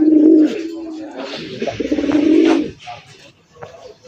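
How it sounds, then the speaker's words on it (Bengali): Raja Golla pigeons coo at a breeding farm, with close, loud, throaty rolling coos in a couple of long phrases followed by quieter bird sounds. "চমৎকার কালারিং রাজগোল্লা কবুতর দেখেন"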